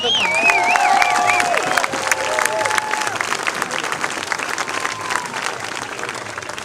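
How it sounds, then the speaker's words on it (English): Crowd applause and some cheering at an Occupy Santa Rosa rally on October 15th, greeting a speaker. It stays steady and fairly loud for several seconds, with whistle-like tones and voices over it. "Let's give her a round of applause"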